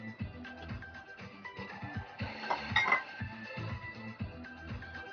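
Mangoes, sago, nata de coco and jelly go into a big bowl for a mango dessert, giving a few light clinks and soft wet knocks over several seconds, with a steady tonal background underneath.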